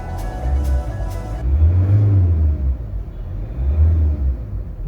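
A Toyota Corolla Altis engine with about 378,490 km and never opened runs with a steady low rumble that swells twice in smooth revs. A light ticking sounds briefly at the start, with no voices.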